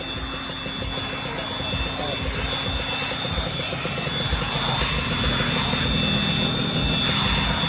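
Suzuki Raider motorcycle engine revving on a dyno, a loud steady roar that builds slightly over several seconds, with a voice talking over it.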